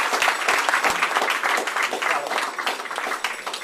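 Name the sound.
audience applause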